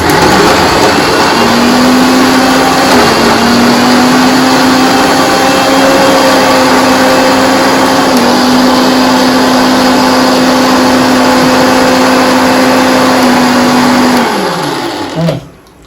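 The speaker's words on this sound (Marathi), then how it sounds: "सो आता हे बारीक असे चपातीचे तुकडे आपण पहिल्यांदा वाटून घेऊयात." A kitchen mixer grinder whirs steadily as it grinds small torn pieces of chapati, a loud continuous motor drone with a slight pitch shift partway, running on its own until it winds down at the end.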